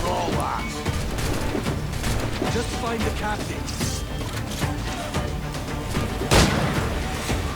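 Rapid bursts of gunfire crackle through a busy Assassin's Creed IV: Black Flag game soundscape, with one sharp, louder shot standing out near the end.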